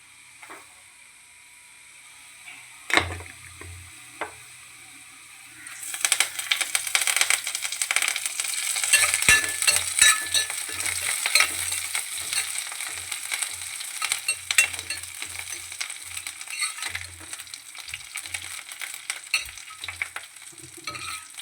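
Curry leaves hit hot oil for a Kerala thattukada-style beef curry, a sudden loud sizzle after a few clinks, then sustained crackling frying with stirring scrapes throughout.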